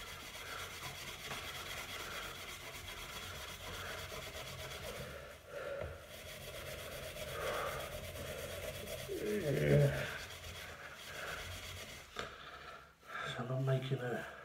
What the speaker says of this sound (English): I can definitely tell that the more I scrub, the more it's coming off